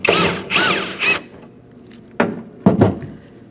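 A power driver whirs in several short bursts while the last bolt comes out of a 2004-2012 Chevrolet Colorado tailgate handle, close and fairly loud, with brief quiet gaps and a couple of sharp clicks near the end.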